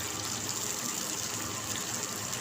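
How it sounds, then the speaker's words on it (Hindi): Water is poured into a pan of bottle gourd kofta curry, about half a bowl's worth, a steady close gushing splash that stays level throughout. "मैं थोड़ा सा इसमें हाफ़ कटोरी के करीब पानी लगा रही हूँ।"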